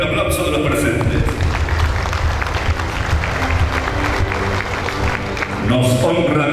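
Applause from those present at the official opening of an agricultural show, clapping mixed with a loudspeaker voice and event noise, dense throughout and peaking near the end.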